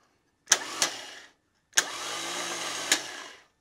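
A car starter motor bench-tested with a wood block standing in for the flywheel: two bursts of whirring motor noise, each opening with a sharp clunk as the solenoid throws the gear, the second longer and steady, close up with no talk.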